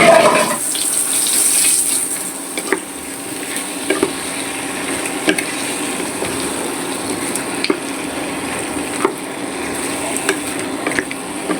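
Taro pieces going into a pan of fried fish and spices in hot oil, giving a steady soft sizzle with faint scraping and light clicks of stirring, no talk.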